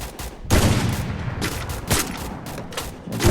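Gunfire in the Free Fire video game, several sharp bursts of shots in quick succession, loud and close with brief gaps between volleys.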